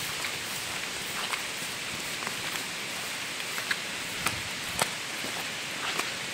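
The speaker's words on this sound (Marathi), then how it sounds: "पाऊस येतोय जोरदार." Rain falling in a Konkan forest, a dense steady hiss of drops on leaves and ground with occasional sharper nearby drips, moderately quiet and with no voices.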